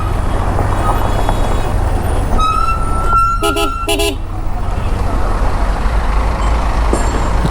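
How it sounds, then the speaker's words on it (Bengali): Road traffic in a jam with trucks and buses rumbling, steady and close. A single horn toot is followed by two short honks in quick succession midway. "যে এখানেও জ্যাম আছে।"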